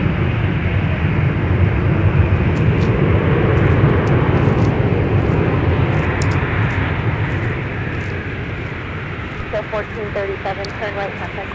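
An Alaska Airlines jet arriving on the north parallel runway at snowy Minneapolis airport makes a loud broad rumble that slowly fades, while a voice talks over it and short tonal beeps sound near the end.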